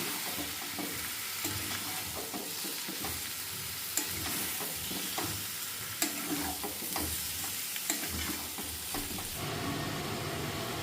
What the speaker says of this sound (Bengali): আলু দিয়ে একটু নাড়িয়ে জল দিয়ে দেবো